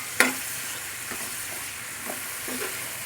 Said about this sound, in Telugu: ఉల్లిపాయలు ఉల్లిబందు బాగా వేగినాయి